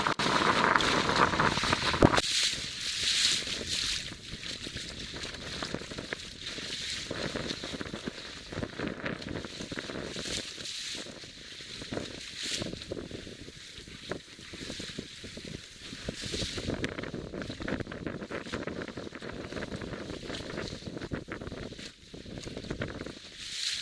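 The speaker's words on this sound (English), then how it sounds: "The wind has freshened up as predicted." A freshened northerly wind of about force 4 buffets steadily and loudly across a sailing boat heading out of the harbour past Hayling Island, with water rushing along the hull beneath the gusts.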